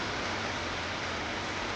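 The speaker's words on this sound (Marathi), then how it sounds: "पाऊस पुन्हा चालू झालो" Steady rain pours outdoors near a garden in a village in November, a dense, even hiss of water with no breaks and no voices over it.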